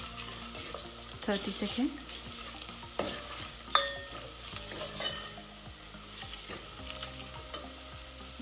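Bottle gourd (lauki) pieces with salt sauté in a pan, giving a steady sizzle with irregular spoon scrapes and clatters over several seconds. A voice briefly speaks partway through.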